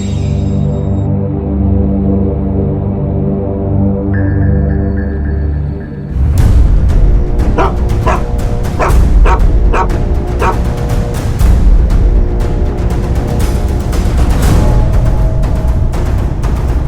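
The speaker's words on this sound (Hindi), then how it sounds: "ये कुत्ता भी यहीं आकर सूंघ रहा है।" A dog sniffs around at a spot in a housing society, with a string of sharp barks and yips breaking out midway over a loud dramatic music bed.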